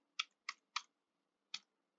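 Quiet, sharp key clicks on a computer keyboard as a URL is typed, four presses in an uneven rhythm with a pause before the last one, close and alone.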